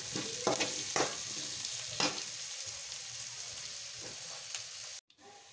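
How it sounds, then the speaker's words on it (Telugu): Chopped onion fries in a pan until it turns red, giving a steady close sizzle with several sharp scraping stirs, before the sound cuts off abruptly at the end. "ఆనియన్ని బాగా రెడ్గా వేయించాలి ఫ్రెండ్స్"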